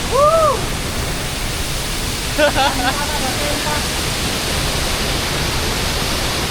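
Tirto Galuh waterfall in Blitar roars as a dense, steady rush of falling water filling the scene, while a couple of brief voice-like sounds rise faintly over it.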